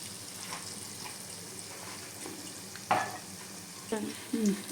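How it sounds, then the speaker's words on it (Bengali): Pea lentil fritters (motor dal bora) frying in a pan of oil give a steady close sizzle, broken by a few scraping clicks and splashes as the pieces are flipped. "এইভাবে সব উল্টায় দিয়ে আমি ভেজে নেব।"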